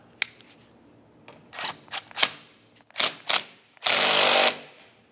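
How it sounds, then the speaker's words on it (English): A wiper arm mounting nut tightened on a 1998-2002 Lincoln Navigator: a few sharp ratcheting clicks and short bursts from a hand tool, close by, ending in a longer loud buzzing rattle. "Let's install our mounting nut."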